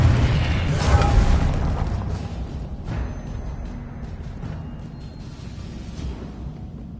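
In the Hogwarts Legacy video game, spell blasts and explosions go off. A deep boom at the start fades into rumbling rubble, and a few lighter bursts and whooshes follow over a low background.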